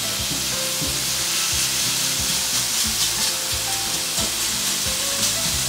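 Chorizo sizzling and crackling in a pan over medium-high heat while being stirred, a loud, close, steady frying hiss with scraping stir noises.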